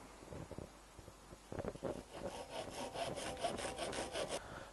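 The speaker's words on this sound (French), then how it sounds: "Et enfin, je découpe l'hélice." A hand saw cuts out a small wooden propeller for a homemade magic trick, the blade rasping in a quick, steady run of close, fairly loud strokes that build after a few hesitant starts.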